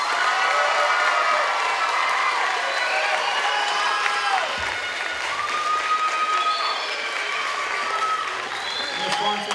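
A school audience claps loudly for a homeroom class, dense applause filling the whole stretch with some cheering and shouting mixed in, while a voice speaks over the crowd.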